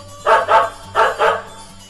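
Two quick pairs of dog barks, close and fairly loud, with short pauses between them over a quiet low hum.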